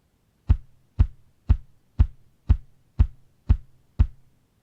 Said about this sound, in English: What I want is a kick drum on every beat